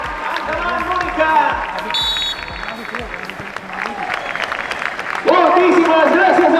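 Applause rings through a sports hall honouring canoeist Mónica Doria, a continuous wash of clapping under a loud announcer, swelling sharply for the last second.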